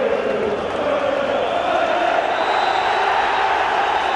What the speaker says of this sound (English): The celebrations have already started among Turf Moor's biggest crowd of the season.